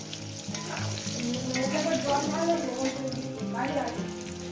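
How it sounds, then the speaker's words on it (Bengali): Potatoes fry in oil in a pan with a continuous close sizzle, and a voice is faintly audible beneath the frying. "দিয়ে দেবো এক এক করে আমাদের আলুগুলো দিয়ে সুন্দর করে লাল লাল করে ভেজে নেব"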